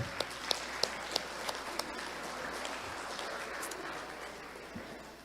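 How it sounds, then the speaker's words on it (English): Applause from an audience honouring residential school survivors at an Île-à-la-Crosse gathering, a steady wash of clapping with a few sharper claps standing out early, then fading and thinning toward the end. "another round of applause for our survivors for their courage"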